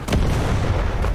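A building collapses amid explosions in the War Thunder video game, heard as a loud, dense, booming rumble with a sharp burst at the start and another near the end, alone without talk.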